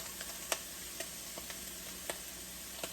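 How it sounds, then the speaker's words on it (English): Onions sauté in a pan for beef stroganoff, a faint steady sizzle broken by small, evenly spaced ticks and pops, quiet and close. "We're just going to let the onions saute"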